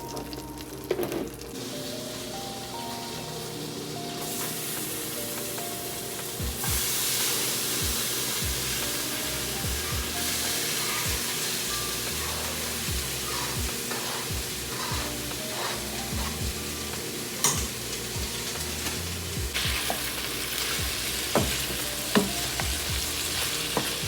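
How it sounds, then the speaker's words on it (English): Jamaican-style brown stew fish cooks in sauce in a pan, with a continuous loud frying hiss and bubbling and occasional stirring knocks throughout, without any talking. "I'm going to add the fish and I'm going to cover and let it cook for roughly 5 minutes"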